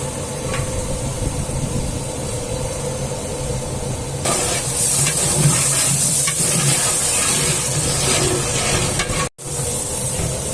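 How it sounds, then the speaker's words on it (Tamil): Ginger garlic paste is sautéed in oil with onions for a temple food offering: a steady frying hiss that turns louder and more spattering midway, with stirring and no voices. "இப்போ இஞ்சி பூண்டு பேஸ்ட் அதில் போட்டு நல்லா எண்ணெயில் வதக்கிடணும்"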